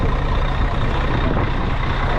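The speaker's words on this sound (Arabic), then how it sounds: "ده الباص اهو نفس الكلام، الشاتل باص" Electric shuttle bus at the Giza pyramids, a steady loud broadband hum and low rumble of the vehicle and busy surroundings, continuous with no pauses and no talk.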